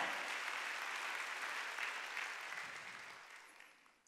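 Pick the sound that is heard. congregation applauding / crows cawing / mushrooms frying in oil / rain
congregation applauding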